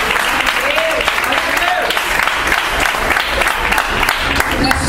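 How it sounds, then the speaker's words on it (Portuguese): A congregation at a women's church congress applauds, sustained dense clapping filling the room at an even level, with voices talking beneath it. "Pode aplaudir"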